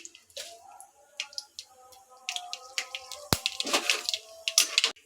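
Mustard seeds and urad dal sputter in hot oil, giving irregular sharp pops and crackles, some louder than others, over a quiet sizzle close by.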